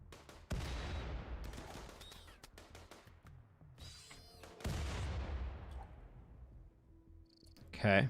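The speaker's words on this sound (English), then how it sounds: "Stop throwing grenades." Grenade blasts in the video game Rimworld come as booming explosions with long decaying tails, two big bursts among scattered gunfire pops, all fairly loud with a brief speaking voice.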